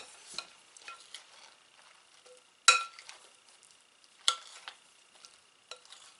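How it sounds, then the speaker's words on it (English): A batter mixture is stirred through pieces of food in a bowl, giving soft wet squelches and scattered clicks of the utensil against the bowl, close and quiet, with no talking. "Let's just stir this up a little. Get that mixture coating all the pieces."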